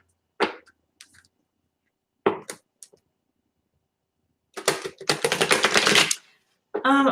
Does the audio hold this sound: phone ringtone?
no